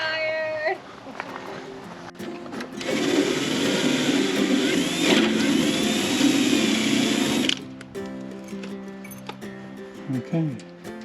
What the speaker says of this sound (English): I need to drill through this double wall of aluminum